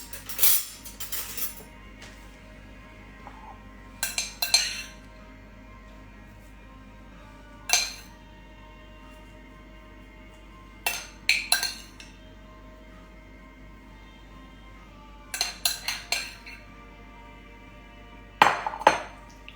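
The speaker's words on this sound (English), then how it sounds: "Tap that down nice and firm" A spoon taps garlic, carrots and celery down firmly into a container, giving sharp clinking knocks in short bursts of several taps, separated by quiet pauses.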